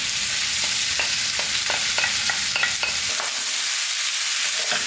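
Rice goes into a sizzling pan of tandoori chicken fried rice with garlic and ginger, frying loudly and steadily while a spatula scrapes and stirs in repeated clicks; no one speaks.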